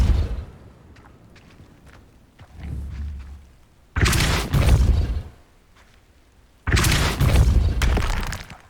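Depulso force spell in the wizarding game Hogwarts Legacy, knocking objects over in two loud crashing bursts of breaking and thudding clutter, separated by quieter stretches of faint ambience.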